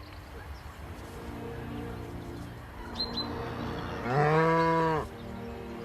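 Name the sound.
Charolais cattle herd mooing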